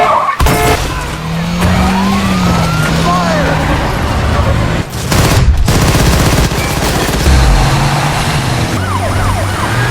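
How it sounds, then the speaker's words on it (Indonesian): Rapid bursts of police gunfire in a film truck chase, with sirens, revving truck engines and roaring traffic crowding into a loud, dense mix that runs the whole time. "Para polisi pun terus mengejar sambil menembak dan menyuruh mereka untuk menyerah saja"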